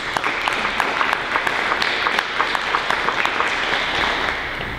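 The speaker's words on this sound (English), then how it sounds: "So let's give her a round of applause." A crowd at a teacher of the year finalist celebration gives a sustained, even round of applause, with many hands clapping at moderate loudness and a few sharper individual claps.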